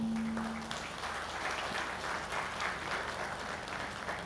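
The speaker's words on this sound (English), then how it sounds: "I would like to give a warm round of applause for Mr." A crowd applauds steadily at a wedding launch event, honoring a guest named Mr. Mahanama. The clapping is dense and sustained throughout, with a brief low hum at the start and no voices.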